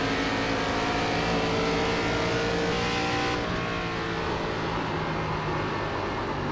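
Loud, steady engine roar of NASCAR stock cars racing in the iRacing sim, a 2003 career season, with layered engines droning continuously and a slight dip in pitch midway as the pack pushes on.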